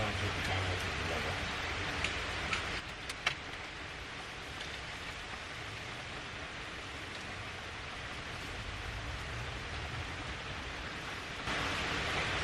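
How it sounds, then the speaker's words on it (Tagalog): Heavy rain pours down steadily, a dense continuous hiss close by with a few louder drips and knocks, growing slightly stronger toward the end. "Lumalakas ang ulan."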